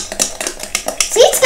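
Metal whisks clatter and scrape against a bowl while cream is whisked in a home kitchen, giving quick irregular clicks and taps under nearby talking.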